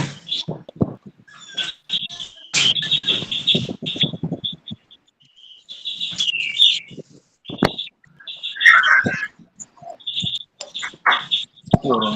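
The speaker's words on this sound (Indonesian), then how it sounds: "Ada burung itu." Birds chirping, with short high tweets and trills scattered over about twelve seconds, interleaved with indistinct voices and muffled room noise, moderately loud and intermittent.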